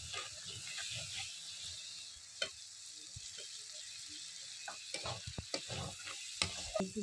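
Chopped tomato added to spices frying in a pan with potato for jackfruit and prawn curry, soft sizzling with scattered stirring clicks and scrapes, fairly quiet and close.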